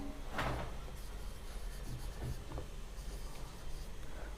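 An equation is written out during a geometry lesson, with a pen or marker making several close scratchy strokes and squeaks over a steady background hum, no voices.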